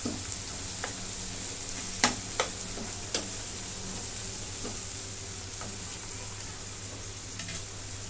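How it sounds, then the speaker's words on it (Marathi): Vegetables for pav bhaji sautéing in a pan on a high gas flame, a continuous close hiss of frying with occasional sharp clicks and scrapes from stirring. "आता मोठ्या गॅसवरती हे पण एक मी दोन मिनटं परतून घेते"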